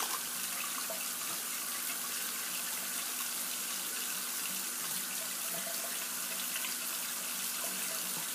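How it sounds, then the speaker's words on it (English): A tap runs steadily to rinse a Thiers Issard straight razor during a shave, a constant hissing stream of water close by with no other sounds over it. "we'll just rinse off here"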